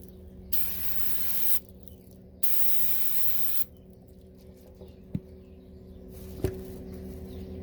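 Gumout carburetor cleaner is sprayed from a nozzle onto a boat's flame arrestor in two steady hissing bursts of about a second each, with faint clicks and a low hum between them.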